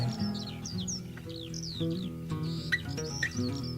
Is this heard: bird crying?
yes